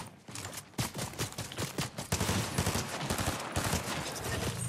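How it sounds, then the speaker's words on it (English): Gunfire in a multiplayer shooter video game, dense rapid shots and cracks continuing throughout at moderate level, no talking heard. "We're getting sniped at, just so you know."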